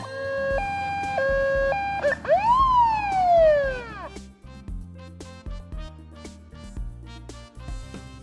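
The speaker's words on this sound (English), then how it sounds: "Police car." A police car siren sounds in a children's emergency-vehicle segment: steady stepped two-tone notes, then a loud rising-and-falling wail, over a thumping beat and bright background music.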